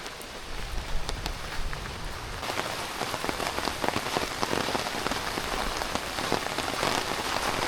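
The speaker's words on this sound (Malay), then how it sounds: "Hujan." Rain falls on a tent flysheet at a campsite as a steady, dense patter that grows a little heavier partway through, close and continuous, with no talk.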